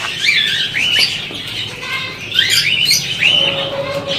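Pigeons and other birds gathering at scattered mixed grain feed give repeated squawks and chirps in uneven bursts, close and fairly loud, with faint rustling between calls and no talk.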